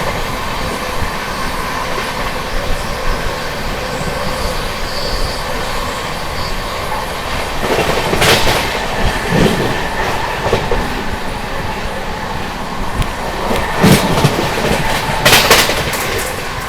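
The 22361 Patna–New Delhi Amrit Bharat Express races along at speed after leaving Subedarganj, a steady loud roar of wheels on rail with rhythmic clickety-clack bursts and rushing wind throughout.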